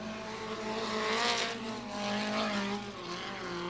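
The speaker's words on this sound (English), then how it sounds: "Michael Magic onto the racetrack" Non-wing sprint cars race at Kokomo Speedway during a USAC Grand Prix, a loud steady engine roar with rising and falling harmonic whine as cars pass through the turns, filling the whole stretch with no talk.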